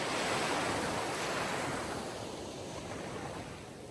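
Continuous sea surf washing in, a broad rushing roar that swells early and then eases slightly, steady and close with no voices.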